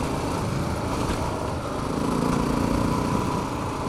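Honda XR650L motorcycle engine droning steadily while being ridden, a continuous loud broadband roar with wind rush and no pauses.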